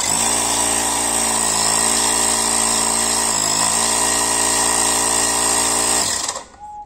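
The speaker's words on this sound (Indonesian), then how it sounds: "Jadi ini begitu saklar diaktifin dia motornya langsung gerak. Terus pompa juga langsung mengisi." A small electric car air pump runs with a steady, loud motor whine and buzz close by for about six seconds, then cuts off abruptly, leaving a faint tone.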